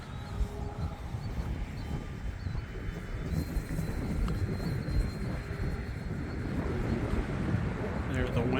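Strong wind rushes and buffets the microphone as a small Commander RC plane flies outdoors, a loud, continuous roar that swells slightly over the clip.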